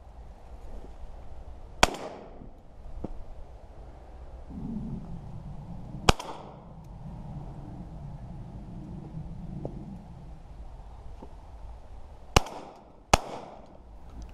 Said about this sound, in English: I've purposely filmed some of the shots from different angles just so as to mix it up a little bit.